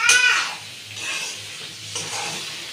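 Jackfruit curry ingredients frying in a pan, with a sharp scrape of stirring at the start followed by a soft, steady sizzle that swells in short waves as the food is moved about.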